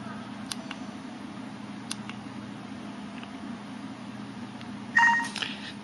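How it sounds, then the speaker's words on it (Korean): Taps on the number keys of an LH2300 touch phone, faint clicks followed near the end by a short, clear electronic dial-tone beep, close and alone in a quiet room. "이런 식으로 번호를 누른 다음에 통화 단추를 눌러주게 되면은 전화가 가죠."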